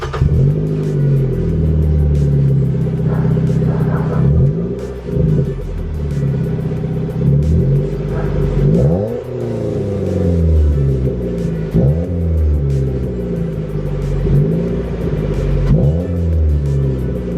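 A car engine with an aftermarket exhaust revs repeatedly, loud and close, its pitch sweeping up and dropping back in a series of rising and falling throttle blips over a deep rumbling idle.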